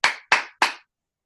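Three sharp, evenly spaced claps from an audience, close and loud, each quickly fading before silence.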